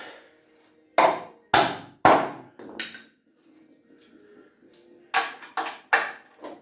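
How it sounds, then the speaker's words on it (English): Sharp metallic hammer strikes pounding a fitting tight ring out in two bursts, three or four blows each with a brief pause between, close and loud with ringing decay. "Just need to pound this thing in and tighten it."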